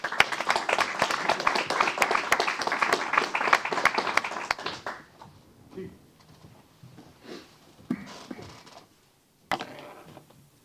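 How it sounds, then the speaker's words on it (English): Dense applause fills a city council meeting in Temple Terrace, then thins into a few scattered claps and room noise with some talking. "Let's give him a round of applause."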